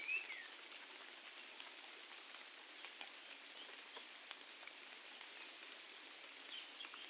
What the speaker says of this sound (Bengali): টিপ টিপ করে বৃষ্টি পড়ে,